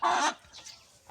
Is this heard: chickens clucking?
yes